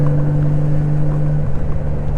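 Honda Goldwing motorcycle engine running under throttle at a steady low hum, loud and close, with a slight shift in pitch partway through and no talking.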